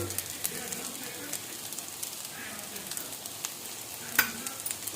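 Chicken frying in a pan with added tomato sauce and being stirred: a soft continuous sizzle with light scraping and a sharper clink near the end.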